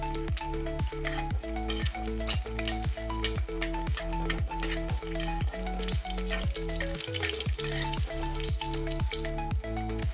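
Constant sizzling and crackling of an egg frying in a new pan, close up, with a steady rhythmic electrical hum underneath and no voices.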